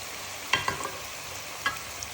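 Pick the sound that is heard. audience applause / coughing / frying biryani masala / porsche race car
frying biryani masala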